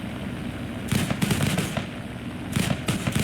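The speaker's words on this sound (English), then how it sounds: "So I'm gonna take a couple of shots there" Rapid bursts of aircraft cannon and machine-gun fire from a Fiat G.55 Centauro fighter in the War Thunder combat game, two separate short volleys rattling over a steady engine drone.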